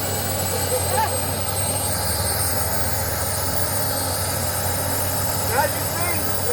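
A small jet engine on a mini jet bike runs steadily with a loud, continuous whooshing roar and high whine, close by, while people talk briefly over it.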